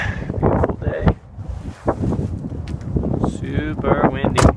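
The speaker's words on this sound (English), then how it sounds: "Super windy." Strong wind buffets the microphone on an open outdoor spot for land kite boarding, a steady roaring rush with gusty swells, while a person talks over it.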